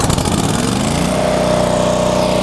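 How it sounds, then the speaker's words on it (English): A Miller Trailblazer 302 welder generator's engine cranks and catches, then settles into a loud, steady mechanical drone as it revs up, close and continuous with no voices. "Engine gonna come to high RPM after starting."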